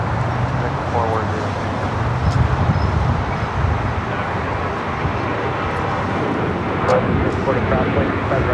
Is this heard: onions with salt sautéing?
no